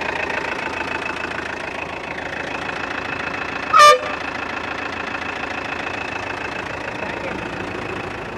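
A used tanker lorry with a 7500-litre tank and air brakes gives one short, sharp blast of its air horn midway through, set against the steady drone of an idling diesel engine.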